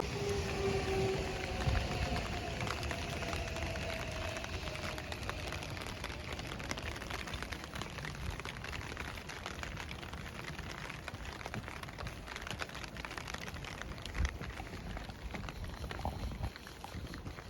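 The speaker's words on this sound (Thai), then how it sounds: "ฝนตกหนักมากเลยค่ะตอนนี้" Heavy rain falling in Kyoto, a dense, steady hiss of drops spattering on surfaces that stays loud and unbroken throughout, with no talk over it.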